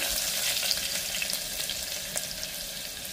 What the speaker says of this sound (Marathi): ठेचलेलं लसूण आणि आलं थोडंसं परतून घेऊया.